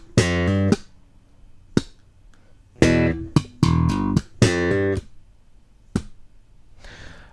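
Bass riff, the first two beats of the bar, played alone as loud percussive slapped and plucked notes in short clustered bursts separated by brief silences, repeated several times.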